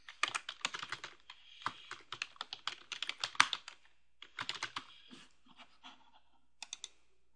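Rapid, uneven clatter of fingers typing on a computer keyboard, close and fairly quiet, arriving in bursts with brief pauses and no one speaking.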